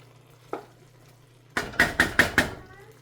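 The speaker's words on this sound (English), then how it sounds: "We're gonna mix it and turn the fire back down" Thiébou narr in a pot gets stirred: after one faint knock, five sharp metal scrapes and clanks of a spoon strike the pot in quick succession, loud and close, over a low hum.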